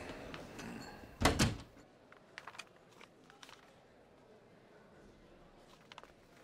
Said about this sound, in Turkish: Kapıyı kapasana.